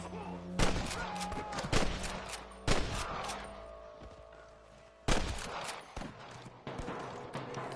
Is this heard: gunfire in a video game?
yes